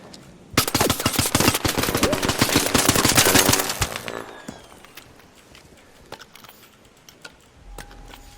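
Rapid automatic gunfire in the video game Rust, a loud, dense burst of shots for about three seconds, then quieter scattered footsteps and clicks, no talking.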